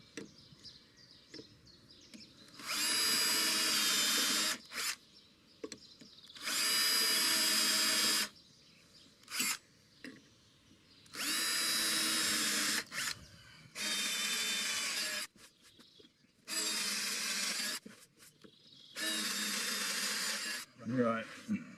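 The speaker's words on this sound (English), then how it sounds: "now I'm going to take those out bigger, because I'm going to do the old drill palaver here" A power drill bores holes for a boat backing plate on a cruising sailboat build, running in six or seven loud bursts of a few seconds each, separated by short pauses with light handling noise.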